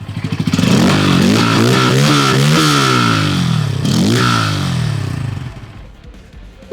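A Bajaj Pulsar N160 motorcycle engine is revved several times in quick succession, loud and close, each throttle blip rising and falling before settling back toward a fading idle.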